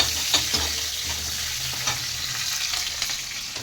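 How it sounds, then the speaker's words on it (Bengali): Dried and green chillies fry in hot oil in a pan, giving a steady loud sizzle and crackle with a few sharp pops, heard close up with no voices over it. "দিয়ে দিচ্ছি শুকনো কাঁচা লঙ্কা"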